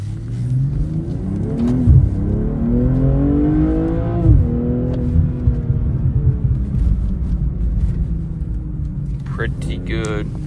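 A used Audi trade-in with about 26,000 miles pulls hard on a test drive, its engine rising in pitch through gear changes, loud from inside the cabin, then settling to a steady cruise.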